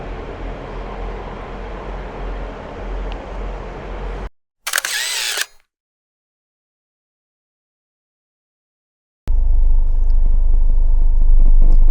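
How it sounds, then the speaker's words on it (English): A steady low rumble inside a double-decker bus heading to Anfield in Liverpool, cut by a brief burst of noise and several seconds of silence before the droning engine returns. "I'm just on one of the buses to Anfield, one of the double-deckers"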